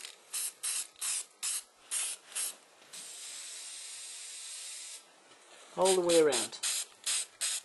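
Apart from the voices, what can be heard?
spray paint can spraying a nebula effect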